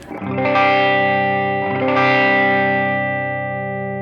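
A distorted electric guitar chord through a Wampler Tumnus overdrive pedal, treble at 3 o'clock, rings out loud and bright, struck again partway through and left to sustain and slowly fade.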